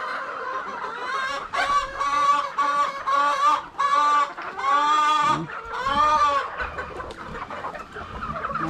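Young gamecock stags crowing and clucking close by, several harmonic calls in quick succession, some rising into strained crows, with softer clucks trailing off at the end.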